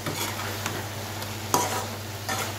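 Ridge gourd and prawn gravy is stirred in a pan, with a continuous close sizzle of frying and occasional scraping strokes of the spoon, no speech.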